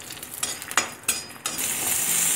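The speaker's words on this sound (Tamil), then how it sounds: "வெங்காயம் வதங்கிருச்சு இப்போ நீங்க தக்காளியும் ஆட் பண்ணி நல்லா வதக்கிக்கோங்க" Onions sauté in a pan for South Indian tomato chutney, a close crackling sizzle broken by several spatula scrapes and stirs, then a louder, hissier frying as the pan heats.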